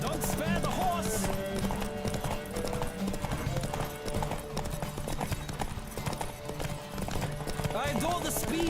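Horse hooves clip-clopping at speed in The Witcher 3, a steady rhythmic pounding close by with music and game ambience, while voices talk over it.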